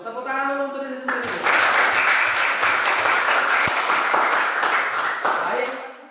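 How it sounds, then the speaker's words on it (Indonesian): Junior high school students in a classroom burst into a dense, loud round of applause that follows a brief voice, swelling quickly and holding steady for several seconds before tapering off. "Bagus, tepuk tangan dulu untuk diri sendiri."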